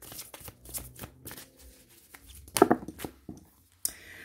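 Oracle cards shuffled by hand in a close, quiet room, riffling and slapping in quick bursts with short pauses between, ending on a sharper shuffle.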